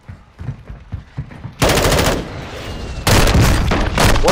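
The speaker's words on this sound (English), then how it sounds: "You shot me with a shotgun." Call of Duty gunfire from a shotgun in the video game: soft clicks and thuds, then two loud, dense blasts of shooting that fill the second half.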